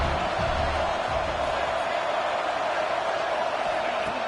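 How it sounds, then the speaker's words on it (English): A stadium crowd roars in an NCAA 26 college football game, a dense, steady wash of noise with no clear peaks, carrying on throughout at a moderate, even level. "It's early, but this crowd is fired up. Listen to this noise here."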